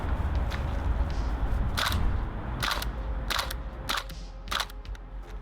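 VFC MP5 gas blowback airsoft gun firing BBs outdoors, several sharp single shots spaced irregularly over a few seconds, each a crisp snap with a short mechanical clack, heard over a low background rumble.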